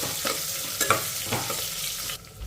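Dried red chillies frying in a pan over medium flame while being stirred, a soft steady sizzle with a few scraping clicks of the spoon, close up, no talk.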